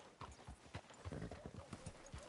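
Horse hooves clop at a walk in the Red Dead Redemption 2 video game, an even, close rhythm under a voice talking.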